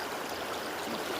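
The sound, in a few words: river stream flowing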